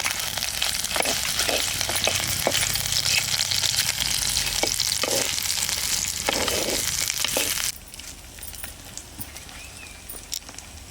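Vegetables, beetroot among them, sizzle loudly in hot oil for a village-style fish curry, a constant crackling fry that suddenly drops to a quieter simmer near the end.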